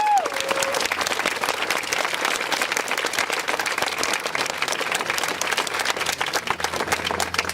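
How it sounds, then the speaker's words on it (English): A crowd at a universal health care bill signing in the Vermont statehouse gives a sustained round of applause, dense clapping that holds steady throughout with no talk on top. "I think they deserve a huge round of applause."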